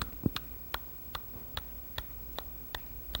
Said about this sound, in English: You will hear a subtle ticking like this.